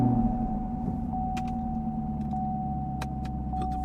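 A Chevrolet Camaro, 2016–2024 generation, starts up and settles into a steady idle, its low engine hum running close and even while a chime sounds repeatedly in the cabin.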